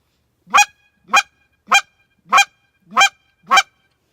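A hand-blown goose call imitates a goose's honk: six sharp, evenly spaced honks, loud and close, each separated by a short silence.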